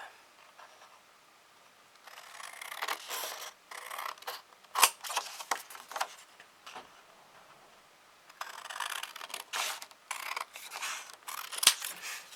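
Scissors cut through a cardboard game board for a tic-tac-toe set, snipping in close, crisp bursts of repeated cuts with a quiet pause between two stretches.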